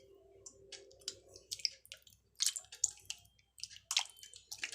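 Thick sour yogurt being stirred and spooned onto raw chicken as a marinade, heard as close, soft wet squishes, drips and clicks in irregular bursts.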